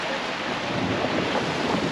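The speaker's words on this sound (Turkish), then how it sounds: "Ve Havada İyi gürlüyor" Thunder rumbling during rain in the Swiss Alps near the Seealpsee, a steady dense roar of rain and low rumble filling the whole stretch, loud and close, with no voices.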